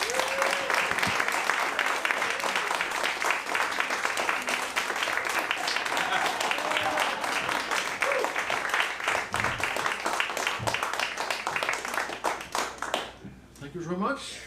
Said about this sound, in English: if you give a little bit of a round of applause here